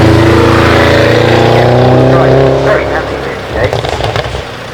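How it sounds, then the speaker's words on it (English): A big twin-turbocharged V8 car bellows loudly past at a hill climb, its engine note sliding downward as it moves away and fading into crowd noise, with someone speaking briefly over the tail end. "bellows and howls its way past me with a big twin turbocharged V8"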